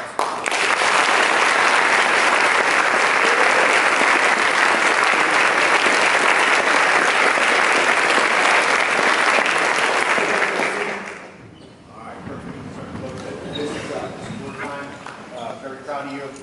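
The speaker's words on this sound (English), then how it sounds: "Round of applause." Loud, sustained audience applause fills a US Army promotion ceremony to Sergeant First Class for about eleven seconds, then fades as a single speaker begins talking.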